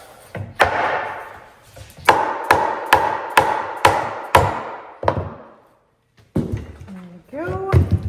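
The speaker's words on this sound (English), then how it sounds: "now I can put it on its seat and be able to hit the front legs out" Hard wooden blows land in a quick, uneven series of about nine hits, knocking chair legs out of the seat, each ringing briefly, followed by a pause and a few lighter knocks and creaks.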